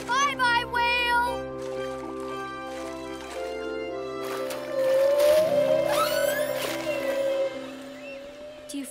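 Whale calls in an animated children's show: long, high, sweeping cries that rise and fall over a sustained musical bed, with children's voices talking and cheering over the opening.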